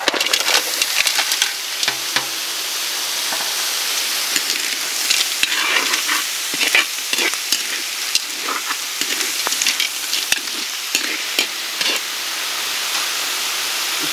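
Sliced onions sizzle and crackle as they drop into hot oil in a pan, a steady close frying hiss with scattered pops while cooking a cheesy sweet chili mussel dish.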